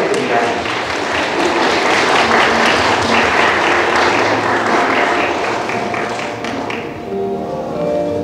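Wedding guests applaud after the ring exchange at a ceremony, a dense sustained burst of clapping that fills the room for several seconds and tapers slightly near the end.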